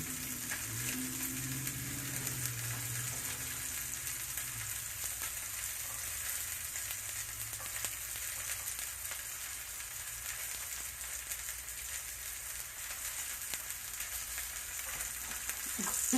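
Steelhead trout fillets pan-fry in a thin layer of olive oil and butter, giving a steady close crackling sizzle that carries on evenly throughout with no talk.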